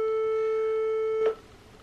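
A phone rings on an outgoing call: one long, steady electronic tone hums loudly for over a second, then cuts off abruptly and leaves a quiet room.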